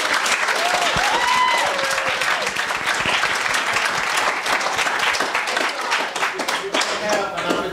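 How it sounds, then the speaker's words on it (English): Sustained audience applause fills a debate hall, dense clapping from a sizable crowd lasting throughout with a few voices mixed in. "I'd also like to give the SGA and the BSA a round of applause"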